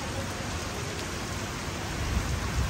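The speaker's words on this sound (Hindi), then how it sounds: "बड़े ज़ोर की बारिश है आज दुबई में।" Heavy storm rain pouring down steadily over Dubai Marina in a dense, hissing wash, slightly louder toward the end.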